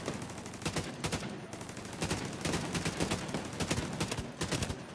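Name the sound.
gun firing in video game The Division 2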